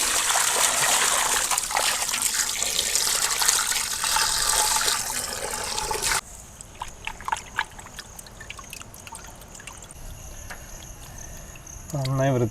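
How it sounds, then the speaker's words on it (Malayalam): Water gushes loudly over cut pieces of fish being washed, a strong splashing flow for about six seconds, then quieter trickles, drips and handling noises close by. "ഇനി ഇതൊന്ന് നന്നായി കഴുകിയെടുക്കാം."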